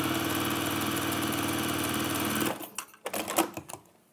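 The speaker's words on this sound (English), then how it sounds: "But I do need to sew down the other side of the tabs." A sewing machine runs steadily as it sews down fabric tabs, a continuous buzzing hum for a couple of seconds that stops abruptly, followed by a few light handling clicks and taps.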